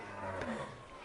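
A single cow at Choumuha in Vrindavan gives a short, low, faint moo.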